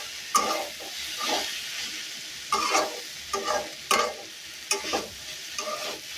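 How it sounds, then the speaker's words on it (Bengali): Bitter gourd bhaji frying in a pan and being turned, with a soft continuous sizzle broken by a series of sharp scraping stirs at an uneven rhythm, close and clear with no talk. "আমার ভাজিটা আবার উল্টাই দিই, ভাজিটাও প্রায় হয়ে গেছে, আর একটু ভাজা ভাজা হবে।"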